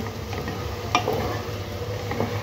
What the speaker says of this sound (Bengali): এখন আমি বেশ কিছুটা কাঁচা পেঁয়াজ দিয়ে দিলাম। এটা আমি একটু ভালো করে ভেজে নিব।